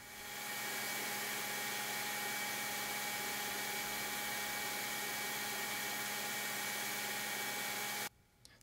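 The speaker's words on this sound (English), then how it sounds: "very carefully removing the absolute minimum amount of material, finish grind the first set" A knife blade being finish-ground on a power grinder to complete the bevel of a tanto point knife: a loud, continuous whining grind at steady pitch that stops abruptly just before the end.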